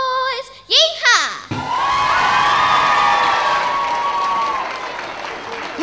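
Audience at a local singing competition breaks into loud sustained applause with cheers and whoops after a country song performance, a short sung phrase and voices heard just before the clapping swells.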